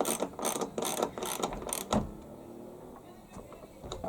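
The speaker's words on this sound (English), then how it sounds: "So 13mm socket. Tighten up the wheel nut." A 13mm socket ratchet tightening a wheel nut during a gearbox change, giving a quick run of close, crisp ratcheting clicks for about two seconds before dropping to quieter background noise.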